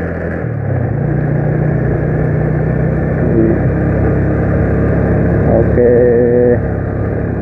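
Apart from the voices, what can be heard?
Yamaha Jupiter motorcycle engine, riding uphill in third gear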